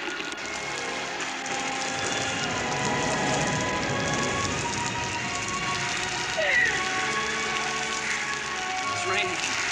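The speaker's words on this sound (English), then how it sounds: "It's raining." Steady rain falls in a 1960 Western TV scene, a continuous soft hiss of drops on a surface running throughout at an even level, with occasional faint clatter and a few brief voices in the background.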